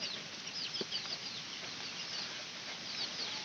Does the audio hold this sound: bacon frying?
no